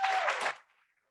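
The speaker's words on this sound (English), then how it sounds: "So a nice round of applause for Tom Condon." Applause from an audience at a panel discussion event in Connecticut, a short burst of clapping that fades quickly into silence.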